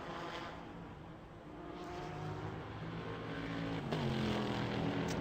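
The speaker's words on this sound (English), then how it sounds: "There is the Core Autosport car." Race cars, including a Core Autosport prototype, run at the 12 Hours of Sebring in 2013, their engines droning and rising as they pass at mid-distance, a steady roar that swells toward the end.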